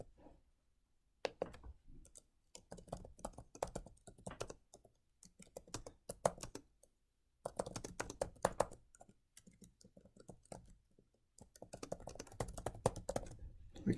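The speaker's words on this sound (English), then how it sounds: "I can just type like I would in any kind of word processor" Typing on a computer keyboard while composing a forum post, with bursts of close, quick key taps separated by brief pauses, no talking.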